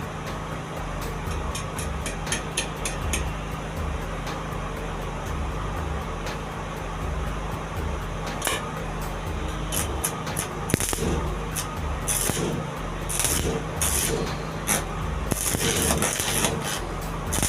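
Arc welding with a homemade welding machine, a steady crackling, buzzing hiss that runs throughout with irregular sharper pops and bursts, close and fairly loud over a constant electrical hum.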